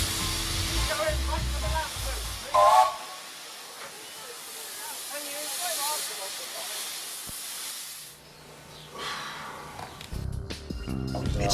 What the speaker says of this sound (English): the tank, carriages and the train rattle off down the line as they would have done 60